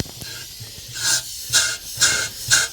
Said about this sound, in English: So a bit of compressed air and Chris halfway up a ladder.